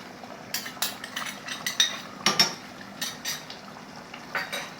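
A spoon mixing chicken qurma with curd in a pot, making repeated scraping clinks against the metal at an uneven rhythm, close and moderately loud.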